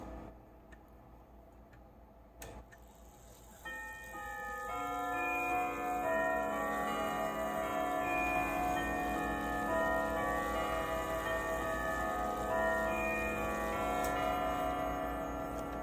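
A grandfather clock strikes a long, ringing sequence of chime notes, the tones layering and sustaining as the hammers play, beginning after a few quiet seconds with soft ticking.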